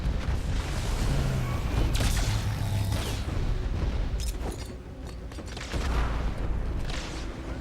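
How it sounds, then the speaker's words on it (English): CGI explosion in a render test, made of loud, rumbling booms with bursts of crackling debris that roll on continuously, swelling again near the end. "Look at this. The explosion."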